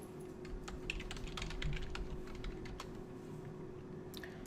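A username is typed on a computer keyboard: a quick, irregular run of crisp key clicks over a low steady hum, close and fairly quiet.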